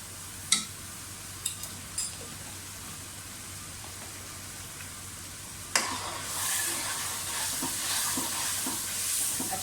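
Carrots and potatoes stir-fried in a pan, a few scraping clinks early on, then a steady loud sizzle with faint rhythmic stirring and background hum.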